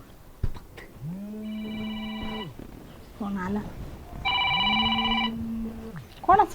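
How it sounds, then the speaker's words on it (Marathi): A telephone rings in two long electronic bursts, with a brief voice between them. "फोन आला"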